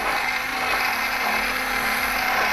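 A whisk beating an oil-thickened special sauce for potato salad in a bowl, giving a steady, fast, continuous scraping whir close up with no pauses, alone without talk.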